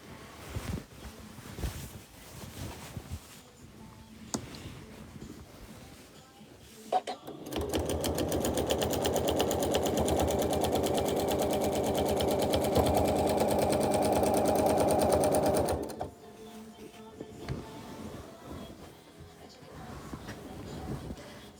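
A sewing machine quilts a memorial quilt, a steady rapid stitching whir running for about eight seconds in the middle, with quieter handling sounds and a speaking voice before and after.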